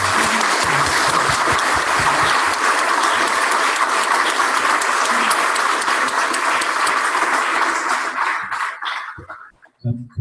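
Audience at a Three Principles conference session breaks into sustained loud applause, a dense wash of many hands clapping close and steady for about eight seconds before thinning out and fading away.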